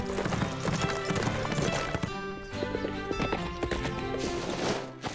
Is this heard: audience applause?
no